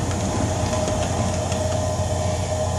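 HO-scale California Zephyr model locomotives, E units running on a layout, giving a steady whirring motor hum with a faint continuous rolling rumble and a thin sustained whine, close and even with no talk.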